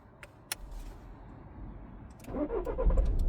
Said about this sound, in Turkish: aracım çalıştı